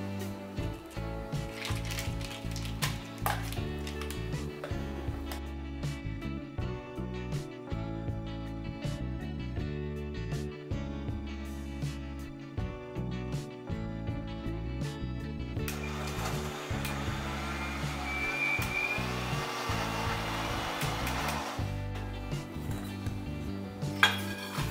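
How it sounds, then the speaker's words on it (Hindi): A kitchen grinder churns biscuit crumbs with added butter, a loud continuous mechanical whirring that keeps stopping and restarting in bursts, then runs longer and rougher toward the end. "तो इसमें थोड़ा बटर और डलेगा अभी, तो वो हम और डाल के इसको फिर से ग्राइंड करते हैं"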